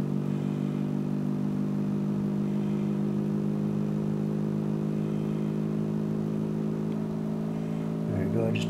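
A small rotor spins steadily at speed, driven by a motor drawing close to 800 milliamps on an amp-meter charging rig, giving a continuous even mechanical hum with a faint clatter near the end.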